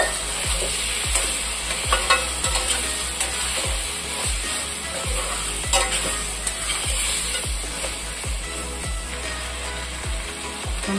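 Boiled chicken goes into onions frying in a pan, followed by a steady, loud sizzle and regular scraping strokes of a spoon stirring against the metal, close up with no talk.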